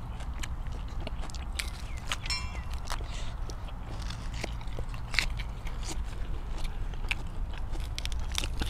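Boiled pig head, ears, tongue and cheek eaten close to the microphone with a spicy jaew dip, giving continuous crunchy, crackling chews and bites in an irregular rhythm with no talking.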